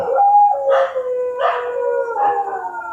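Dog howling nearby, loud and alone: a few long wavering howls rising and falling in pitch, with short breaks between them.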